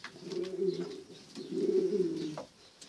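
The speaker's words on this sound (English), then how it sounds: "Here are a couple of pigeons." Pigeons cooing nearby in two long, low, throaty bursts with a short pause between them, with no talk over the calls.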